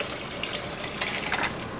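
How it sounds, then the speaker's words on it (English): Milk poured through a sieve into a cheese flan mixture, a steady close trickling, splashing stream of liquid with small gurgling bursts near the end. "I'm now going to pass the milk through a sieve and add it"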